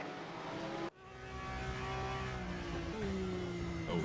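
Porsche 911 GT3 Cup race cars at Mid-Ohio in a racing video game give a sustained mid-pitched engine whine that cuts out briefly, then returns and shifts in pitch as cars jostle for position.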